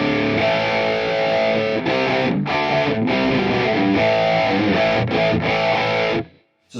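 Distorted electric guitar played through a Quad Cortex with a subtle dirty phaser, dense strummed chords with brief gaps between phrases, loud and close, ending in a short silence before a final hit.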